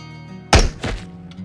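A sniper rifle shot in the game Into The Radius: one heavy, booming report with a second thudding impact just after, loud and close over a quiet low hum.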